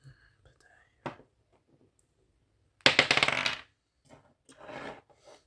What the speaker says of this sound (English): let's roll your dice as well